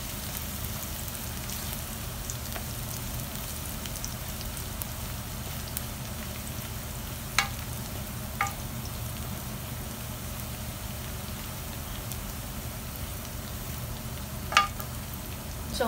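Chopped garlic fries in oil in a pan for pork ribs adobo. A steady rain-like sizzle runs throughout, with a few sharp clinks as it is stirred.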